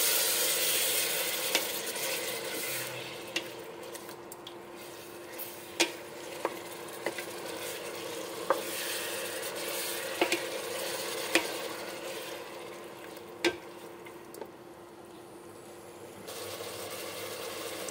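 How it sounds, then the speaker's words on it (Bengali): Meat stir-fries in oil for tehari, a steady low sizzle with scattered clicks of the spoon against the pan, close and moderately quiet, with no talking. "তেহেরির ক্ষেত্রে তেলের মধ্যে মাংসটাকে ভেজে নিতে হবে। এখন আমি নেড়ে চেড়ে ভেজে নিব 4 মিনিটের মতো।"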